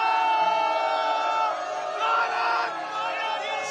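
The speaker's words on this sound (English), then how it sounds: "There is a lot of crowd, lot of enthusiasm" Crowd of cricket fans gathered outside Narendra Modi Stadium in Ahmedabad before the India vs New Zealand T20 World Cup final, a continuous roar of shouting and chanting voices, moderately loud and sustained throughout.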